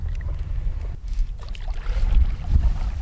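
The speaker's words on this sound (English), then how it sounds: "The only problem with this right now is that it's super windy out here." Strong wind buffets the microphone in rumbling gusts at a lakeside camping and northern pike fishing spot, with faint water and boat noise in the background.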